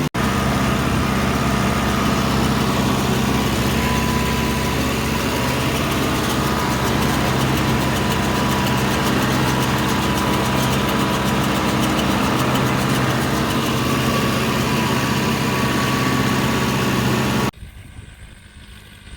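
Loader tractor engine idling steadily, a continuous low mechanical drone at a constant level for about seventeen seconds before cutting off abruptly.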